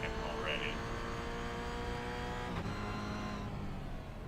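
Toyota GR86 race car at Oschersleben circuit, engine held at full throttle with a steady sustained drone and dense harmonics throughout, loud and continuous from inside the car.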